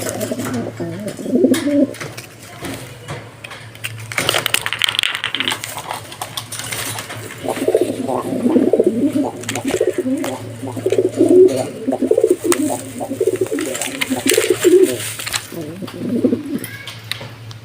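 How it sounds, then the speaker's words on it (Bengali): A pair of racing pigeons in a loft, with their newly hatched chicks, coo in repeated low throaty phrases, close and fairly steady throughout, over a constant low hum. "আমার রেসার কবুতর জোড়া"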